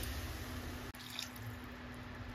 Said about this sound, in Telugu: ఒక హాఫ్ మినిట్ అన్నీ ఫ్రై అయిన తర్వాత ఒక హాఫ్ గ్లాస్ వాటర్ వేసుకోండి